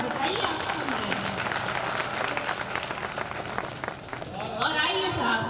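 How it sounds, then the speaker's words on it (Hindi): Audience applause at a Hindi poetry recital, a dense steady patter of many hands clapping throughout, fairly close and loud, with a voice briefly audible near the end. "एक बार तालियां बजाकर बताइए आप सुन रहे हैं"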